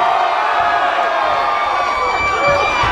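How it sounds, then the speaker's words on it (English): A loud crowd at a white collar boxing event cheers and shouts for the blue corner, a dense sustained roar of voices and whoops filling the whole moment. "Let's have a cheer for the blue corner."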